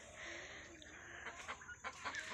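Hen at a backyard home coop giving soft, intermittent clucks, quiet and close against a faint background hiss.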